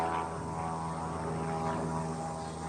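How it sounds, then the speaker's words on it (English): A propeller airplane drones steadily overhead near a lake on a fishing outing, a continuous engine hum with a low harmonic buzz that holds at even loudness throughout. "You guys see that airplane?"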